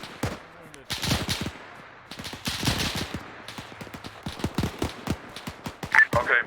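Rapid machine-gun fire and single rifle shots on D-Day at Juno Beach in Vandal Commander, sharp cracks in irregular bursts, some close and loud, others more distant, continuing throughout.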